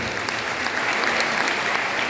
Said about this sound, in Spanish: Fuerte el aplauso también